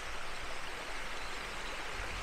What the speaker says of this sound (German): wie das Wasser plätschert hier.